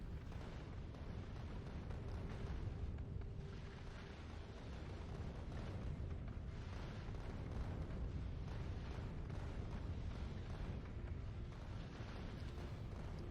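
Rocket turrets blowing up large asteroids in Factorio: Space Age, heard as a steady, dense wash of rumbling blasts and low booms that runs the whole time with no break, loud and continuous with no voice over it.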